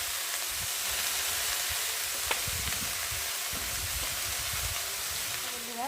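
Cabbage frying in a pan gives a soft, continuous sizzle with low stirring scrapes underneath, faint and close, with one brief sharp clink partway through.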